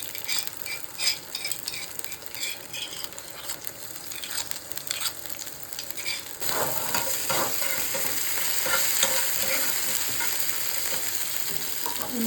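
Ginger, garlic and green chili paste frying in a pan, a steady close sizzle with light scraping of a stirring spoon, growing louder and brighter about halfway through.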